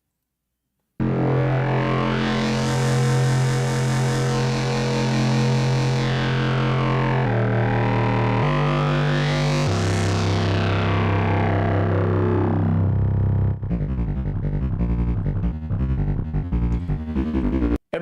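Moog Messenger synthesizer playing loud sustained sweeping tones with heavy distortion and effects, pitch gliding up and down, then breaking into a choppier rhythmic pattern near the end.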